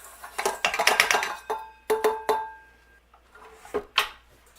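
Sugar goes into a bowl of room-temperature butter in a series of clattering knocks and taps, first a quick rapid cluster, then a few separate louder clinks spaced out, close and distinct.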